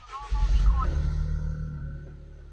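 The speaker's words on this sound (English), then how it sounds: "Let me go ahead and start the car." A Toyota GR Corolla engine cranks and catches with a loud low rumble, then settles into a steady, deep idle that drones on at close range, with a voice faintly heard at the start.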